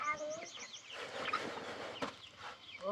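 Chickens cluck and chatter at feeding time on a rural farm, several birds close by with overlapping calls, while people talk in the background.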